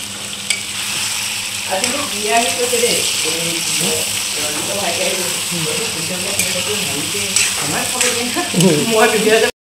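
Mutton fries in a pan, stirred with a spatula: a continuous close sizzle with repeated scraping and clinking strokes, while a voice talks over it.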